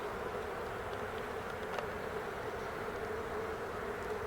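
Honeybees drone steadily inside a beehive whose colony is failing under a poor queen: a dense, continuous close-up hum with no pauses, holding an even level throughout.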